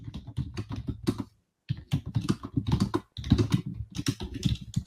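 Fingers type steadily on a computer keyboard, with quick, close clicks in bursts separated by one or two short pauses.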